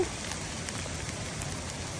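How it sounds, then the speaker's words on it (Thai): Rain falls steadily on a surface outdoors among bamboo shoots, a dense even patter throughout with no talking. "ฝน"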